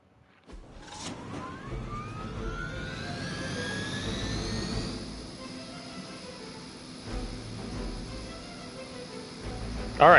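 In a video game, a whining helicopter engine rises in pitch as it spools up, then holds a steady turbine drone under a low rumble, with a brief louder burst at the end.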